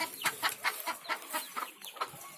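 Free-range village hens in a small farm shed cluck repeatedly in quick, uneven bursts, close by and loud, with several birds calling over one another.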